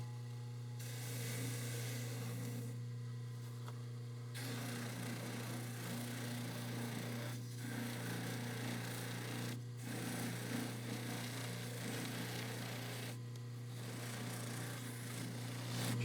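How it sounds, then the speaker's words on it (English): Dentures being polished with pumice on a dental polishing machine, a steady motor hum with a gritty, rasping whir that runs continuously and fairly loud throughout, with no voices. "We're now ready to polish the dentures. We start with pumice, which gets rid of all the scratches."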